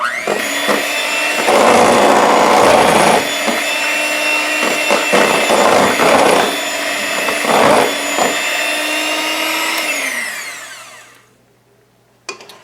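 An electric hand mixer beating box cake mix batter in a bowl, a loud steady motor whine with rattling beaters scraping the bowl, winding down and stopping near the end before a single clack.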